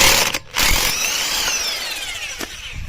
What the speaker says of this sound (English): Harbor Freight Bauer electric impact wrench, and we're gonna go ahead and put it right on here and just remove the all the lug nuts